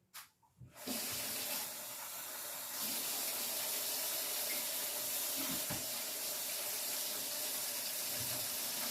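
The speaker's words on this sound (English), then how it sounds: "Then we're going to fill our cans with water." Tap water runs steadily into cans at a kitchen faucet while stuffed cabbage with beef and rice is being made, a constant hissing stream that follows a few brief knocks at the start.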